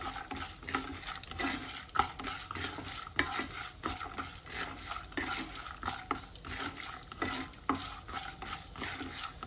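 Peanuts frying in hot oil with asafoetida, green and dried chilies, ginger and curry leaves for semiya pulihora, stirred with a utensil: a steady soft sizzle broken by frequent scraping strokes against the pan, close and continuous.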